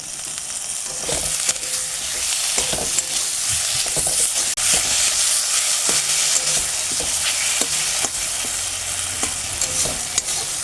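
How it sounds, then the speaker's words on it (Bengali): Spice paste frying with thinly sliced tomato in a pan, a loud continuous sizzle with intermittent stirring scrapes and clacks throughout, close up and without speech. "মশলাটা ভালোভাবে একটু কষে নেব। এবারে মশলাতে দিয়ে দেবো টমেটো।"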